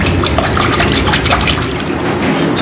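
Milk is poured into eggs for a bobotie egg custard, a close, steady liquid pour with a bright splashing trickle that runs continuously for a few seconds without talk.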